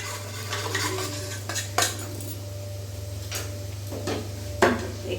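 Egg pieces fry in oil in a pan while a metal utensil clinks and scrapes against it in irregular taps over a low steady hum, close by and with no talking.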